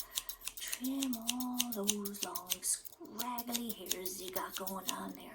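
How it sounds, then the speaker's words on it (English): Small scissors snipping repeatedly at long scraggly eyebrow hairs in a close, intimate trim, crisp clicks scattered throughout under a soft speaking voice. "Let's get ourselves a little pair of scissors and just kind of trim"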